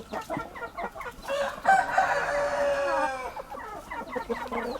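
A young white Aseel rooster crows once in a long, strained call, with clucking and scratchy farmyard sounds before and after, fairly close.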